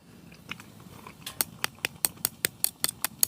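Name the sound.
eating crunchy-topped dumplings cooked in a camping oven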